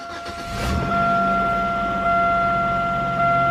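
A Buick Century-type GM car engine with a new fuel pressure regulator cranks briefly, then catches and settles into a steady idle, a loud low rumble with a constant whine running through it.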